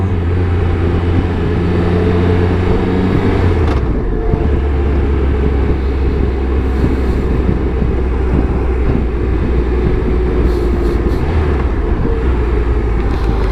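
A low, steady Triumph Trophy motorcycle engine rumble at slow speed, with wind buffeting the microphone throughout and no talking.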